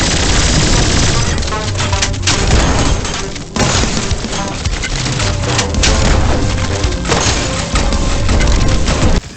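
Rapid heavy gunfire from the Waster Shotgun and the Boomer in the shooter game Turbo Overkill, loud booming blasts with crashing impacts that come in dense bursts with brief gaps, over game music.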